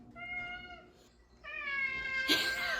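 A pet cat meows indoors, two drawn-out plaintive cries in a row, the second longer and louder, close by with no talking.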